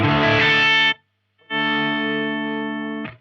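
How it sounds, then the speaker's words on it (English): Distorted Ibanez Jem 77 electric guitar played dry through amplifier gain only, two sustained chords with a brief silence between them, loud and close with no echo trailing off. "I thought I'd turn off the reverb and the delay so you could just hear the native guitar."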